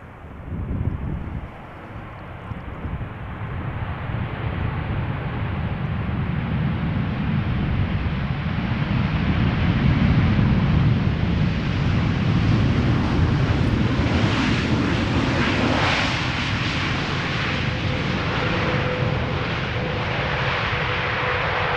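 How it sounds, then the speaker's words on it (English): A KLM Boeing 787-10 Dreamliner arriving at Schiphol from Atlanta, its engine rumble building from a distance into a loud, broad roar as it nears and passes, then holding steady with no talk. "which is arriving from Atlanta, Georgia, KLM flight 622. It's a 787-10 Dreamliner."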